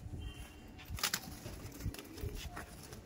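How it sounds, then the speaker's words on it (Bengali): Andhra pigeons flap their wings in sharp, flurried bursts while being caught by hand, a few loud wingbeat flutters close by over a faint background. "দেখুন পায়রা ধরতে গিয়ে হিমশিম খেয়ে যেতে হচ্ছে।"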